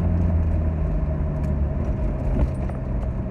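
A 2001 Ford Mustang with a 3.8-liter V6 idles with a steady low rumble and hum, heard close and alone, with a faint light clink partway through.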